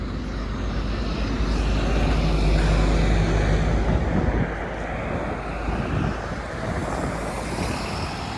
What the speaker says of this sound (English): is that a Delta Airlines aircraft? Or is it Air Canada? Yep, it's Air Canada.